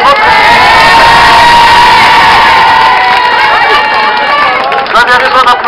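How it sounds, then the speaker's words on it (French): A large crowd at a political rally defending the hospitals of Hayange and Mont-Saint-Martin cheers loudly and continuously, with high whoops and excited shouts rising over dense, steady noise throughout. "avez raison d'applaudir"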